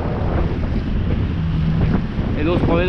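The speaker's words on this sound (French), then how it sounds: "Et nous on se promène en bateau." Wind buffets the microphone steadily as a boat motors through open water on a sea fishing outing off Marseillan, with a constant low engine rumble, water rushing past the hull, and a brief tonal whine near the end.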